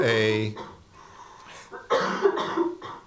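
A voice makes a brief sound, then a few rough, raspy coughs follow in short bursts, close to the listener.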